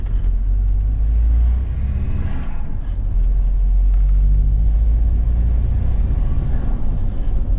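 A Mitsubishi L200 diesel engine pulling under acceleration as turbo boost builds, a heavy, loud, continuous low drone heard from inside the cab, rising slightly in intensity with little variation.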